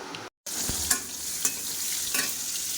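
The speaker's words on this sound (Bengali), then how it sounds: "এই লাল লাল করে ভেজে নিচ্ছি পটলটা" Pointed gourd fries in a pan until reddish, a continuous bright sizzle with several quick spatula scrapes and taps spaced through it, heard up close with no one talking.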